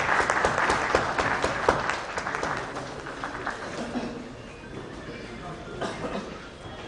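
An audience at a smart city conference inauguration in Bihar breaks into loud, dense applause that starts strong near the front and gradually thins and softens over several seconds, with some voices mixed into the clapping.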